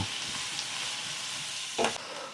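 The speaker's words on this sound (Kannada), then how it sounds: "ಪಾಲಕ್ ಸೊಪ್ಪನ್ನು ಸೇರಿಸ್ಕೋಣ ಈ ಎಣ್ಣೆನಲ್ಲಿ ಫ್ರೈ ಆಗಬೇಕು" Spinach leaves fry in hot oil for a jackfruit biryani, producing a steady close hiss and sizzle with a brief louder flare of crackling near the end.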